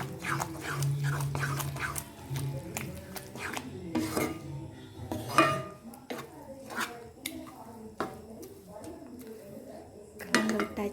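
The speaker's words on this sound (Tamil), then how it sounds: "நல்லா கலந்து விடுவோம்." A spoon stirs and mixes spinach kadayal in a pot, giving soft scraping and clinking knocks in an irregular rhythm, fairly quiet and close, with occasional talking.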